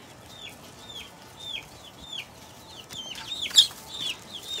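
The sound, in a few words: young chickens clucking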